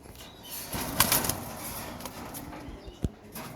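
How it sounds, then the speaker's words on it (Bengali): A pigeon is let go and its wings clap and flutter in a brief burst of flapping close by, followed by a few fainter wingbeats and rustles as it flies off. "তো কবুতরটা ছাইড়া দেখায় আপনাদেরকে"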